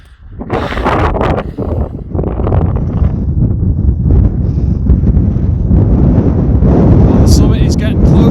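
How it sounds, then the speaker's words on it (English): Strong wind buffets the microphone on a sunny Lake District mountain summit above Wasdale Head, a steady loud roar with gusty surges throughout, and a voice speaks briefly near the start. "it's a lot windier up here, and a lot colder"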